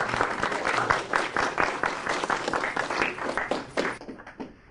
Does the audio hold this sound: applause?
yes